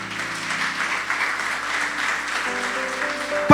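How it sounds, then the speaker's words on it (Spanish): Church congregation giving a loud round of applause during a sermon, a steady, even patter of clapping mixed with a sustained musical tone and held organ-like notes underneath. "Denle un fuerte aplauso al Señor."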